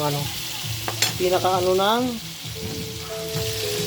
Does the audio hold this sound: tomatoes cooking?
yes